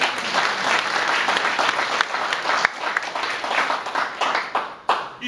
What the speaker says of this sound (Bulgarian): Нека да ръкопляскаме.